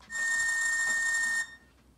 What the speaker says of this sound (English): I'll go ahead and turn the whistle back on.